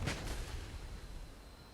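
Pantsir air defense system firing a missile in a video game: one sharp, booming launch at the start, trailing off into a fading roar over the next second or so.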